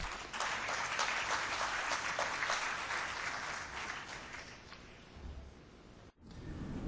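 Sustained round of applause from a conference audience welcoming a videocast presentation, dense and steady for about five seconds before thinning out, with a brief dropout near the end.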